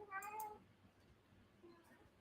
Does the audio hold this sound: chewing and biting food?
no